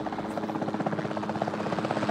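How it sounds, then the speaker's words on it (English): A capture team helicopter in the video game Jurassic World Evolution 2 gives off a steady, close rotor thump, a fast rhythmic chop over a low engine drone that holds without pause. "the sensible thing is to take a capture team helicopter"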